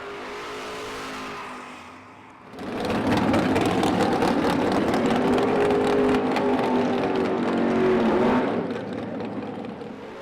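Muscle cars launch down a drag strip, a quiet idle giving way to a sudden, loud, sustained engine roar that holds for several seconds before fading away.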